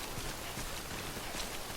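Steady rain falls in the open world of the video game Death Stranding, a soft continuous hiss of drops on the ground with no talk over it.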